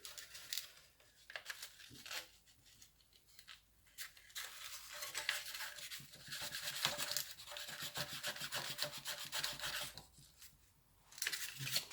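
Abrasive rubbed back and forth over green-crusted electrical contact surfaces on a 40-plus-year-old Briggs and Stratton rotavator: close, quiet scratchy rasping in irregular strokes with brief pauses.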